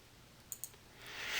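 A computer mouse gives two quick, faint clicks close together in an otherwise quiet room, followed by a soft rising hiss.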